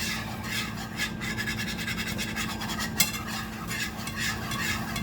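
Whisking lasagna ingredients in a pot on the stove, with a steady scraping, stirring texture throughout and a brief clink partway through, close and moderately loud with no talking.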